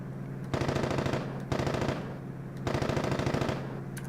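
Aircraft machine guns fire in the combat flight game Aces High III. Three loud, sustained bursts of rapid fire are separated by short pauses over a steady engine drone, with no talk.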